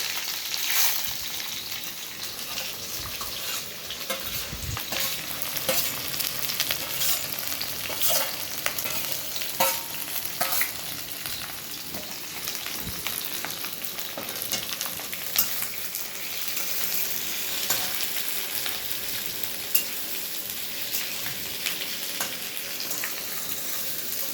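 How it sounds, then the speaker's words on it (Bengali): Onions frying in hot oil in a wok for chicken curry, a loud continuous sizzle with scattered scraping stirs and clicks of a spatula, no voices. "পেঁয়াজ চলে গেল কড়াইয়ে।"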